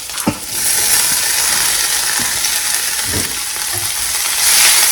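Chopped jackfruit drops into hot tempering oil with a loud, steady sizzle and frying hiss, broken by a few scraping stirs of a spoon against the pan, close and continuous without talk.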